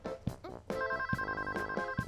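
A telephone rings in a cartoon, a bright electronic ringtone repeating in short bursts over about two seconds, clear and close with no talking.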